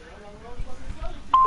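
A phone's message notification chime rings out near the end, a short steady electronic tone standing clear above faint background talk and game noise.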